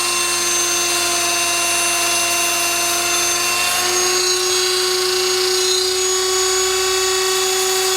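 Steady, loud high-pitched whine of a power tool cutting a section out of a wheel during a three-piece wheel build, held for several seconds with a slight pitch shift midway and no talking.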